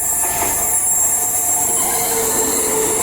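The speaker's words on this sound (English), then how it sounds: "Perth to Midland train." A Perth to Midland passenger train passes close by, loud and continuous, with rolling rail noise and high wheel squeal throughout.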